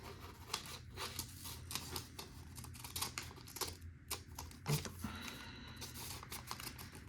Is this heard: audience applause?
no